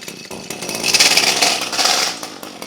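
Echo weed eater two-stroke engine running rough, a loud continuous rasping buzz with uneven surges, close by and alone without talk.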